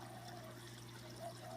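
Faint, steady trickle of water from a fish tank running into a plant bed of sand and lava rock, a soft continuous wash over a low hum with no voices.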